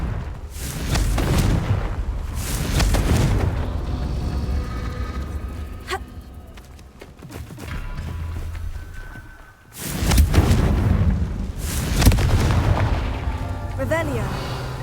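Confringo blasting-spell explosions in the Hogwarts Legacy video game, with loud booming bursts in clusters near the start and again later, and quieter rumbling between them.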